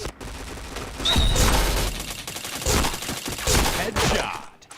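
Rapid gunfire from an online shooter video game, a dense burst of repeated shots and impacts that runs loud and continuous through most of the moment.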